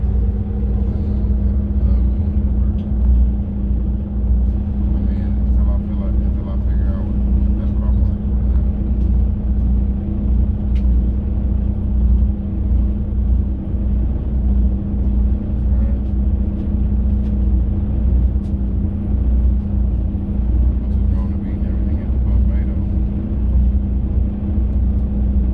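Steady low engine rumble and road drone inside a city bus travelling between stations in Sweden, continuous and even throughout, with a voice talking over it now and then.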